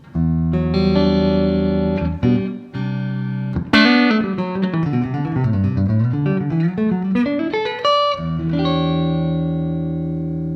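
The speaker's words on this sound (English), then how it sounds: "my clean tone sounds like this on the neck pickup" Warm clean electric guitar tone on the neck pickup playing chords and a descending melodic run with gentle reverb, close and alone with no talking.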